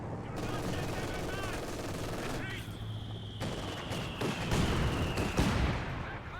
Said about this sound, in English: He just fired 2 shells in quick succession